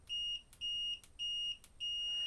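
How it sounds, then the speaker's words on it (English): A multimeter's continuity buzzer beeps four times in an even rhythm while testing switch pins on a DIY MIDI controller board. The tones are clear, sharp and close, with no speech. "They usually have a buzzer function on that where you go to ohms and then tell it to make noise."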